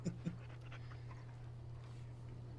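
A pet dog pants softly and steadily in the background under a constant low hum, preceded by a couple of faint brief thumps.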